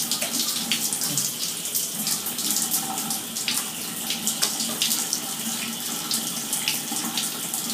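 Cool tap water runs steadily as a Shih Tzu is rinsed during a bath, a continuous close splashing rush over the dog's coat with small irregular spatters, with no talking.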